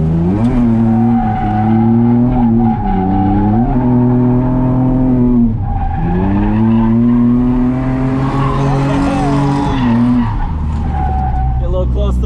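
A drift car slides through a drift event in a loud, continuous run of engine revving and squealing tires, the pitch dipping and climbing twice as it transitions, close and dominant throughout with no talking.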